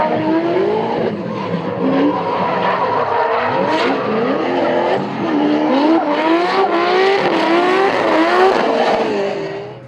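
Drift battle at Manfeild Raceway between a turbocharged RB30 sedan and a supercharged V8: loud revving engines rising and falling with long sliding tire squeals, continuous and close throughout.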